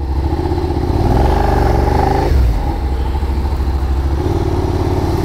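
A motorcycle crawls along at walking pace, its engine holding a steady, even idle-like rumble close by with a slight dip partway through, no voices.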